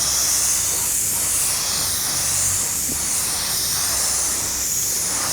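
Acrylic base coat paint sprayed onto a car dash during a Holden HG restoration, a loud, steady close hiss that runs unbroken throughout with no talking.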